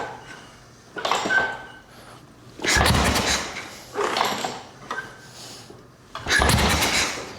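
A Harley-Davidson XLCH motorcycle is kick-started, with four separate bursts of kicking and engine cranking spaced about a second or more apart, fairly loud and close, with quiet gaps between them.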